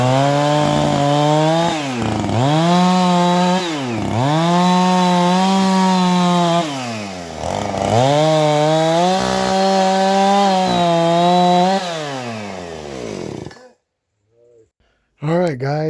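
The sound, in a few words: chainsaw cutting a log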